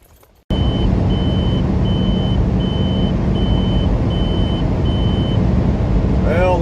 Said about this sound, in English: that beeping right there was a green light beep